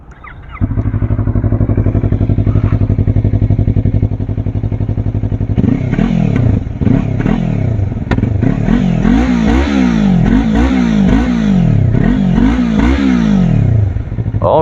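A Yamaha MT-03 motorcycle fitted with an SE Project slip-on exhaust idles with a steady low rumble, then is blipped repeatedly, its engine note rising and falling in sharp, loud revs close to the listener.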